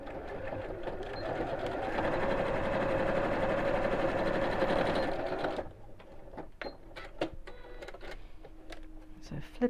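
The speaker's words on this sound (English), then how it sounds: "And then we'll sew across those two pieces." A sewing machine stitches across fabric pieces for a storage box, a steady loud whirr for about five seconds, then stops, leaving quieter handling clicks and rustles.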